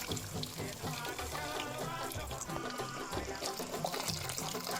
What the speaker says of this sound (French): Maintenant je vais rajouter de l'eau.